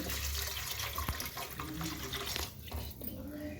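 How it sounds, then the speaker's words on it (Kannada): Water is poured into a cooking pot while making cucumber upma, a close, fairly quiet splashing and trickling stream with a brief dip near the end. "ನೋಡಿ ಇದಕ್ಕೆ ಇಷ್ಟು ನೀರು ಹಾಕಬೇಕು"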